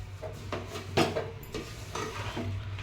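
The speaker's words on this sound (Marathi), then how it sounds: "हे मिश्रण आपण मस्तपैकी मिक्स करून घेऊया" Spoon scrapes and stirs a thick mixture of sesame seeds, jaggery and roasted peanuts for laddoos, with soft rhythmic rubbing strokes and a few sharper knocks against the pan over a low steady hum.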